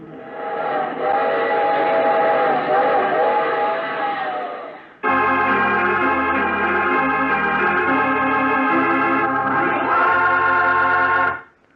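A train whistle blows long and loud, first one sustained chord, then a second deeper multi-tone blast that holds for several seconds before cutting off.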